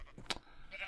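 A short sheep bleat from the Minecraft Agrarian Skies modpack, a brief game sound effect heard faintly among other in-game noise.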